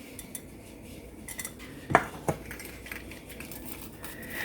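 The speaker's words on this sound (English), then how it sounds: "this pizza cutter I think is the way to go. I'm trying to cut through those pickles." A pizza cutter rolls and presses through a fried pickle chaffle on a plate, making a sharp metallic clink and a second scrape in the middle, close and brief against a quiet kitchen background.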